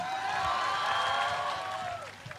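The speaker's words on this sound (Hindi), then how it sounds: "आप सीमा गजल के ख्याल को गलत साबित कीजिए ना तालियां बजाकर।" Audience applause and cheering at an Urdu poetry recital (mushaira), a steady wash of clapping from a seated crowd that holds at an even level before thinning out, with some whoops and a voice faintly audible underneath.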